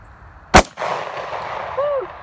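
A single sharp gunshot at an outdoor shooting range in the bayou, loud and close, followed by a lingering rumbling echo and faint background noise.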